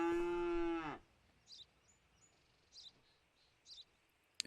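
A cow in the Contraband Police video game gives one loud, drawn-out moo lasting about a second. Quiet follows, broken only by a few faint, brief chirps.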